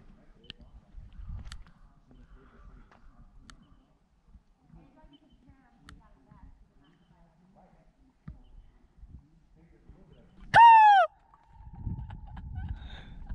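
Birds calling at the back of a sandstone arch in Moab, Utah: one loud, close, sharp descending call in a short burst, with quiet outdoor ambience, a few faint chirps, and low rumble or footsteps before and after.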